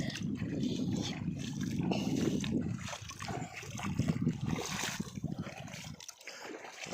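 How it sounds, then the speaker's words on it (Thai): Water from a pump's three-inch outlet, sent nearly 300 metres, gushing and splashing into a pond in a steady, noisy rush that briefly thins near the end. "น้ำไหลเข้าบ่อ"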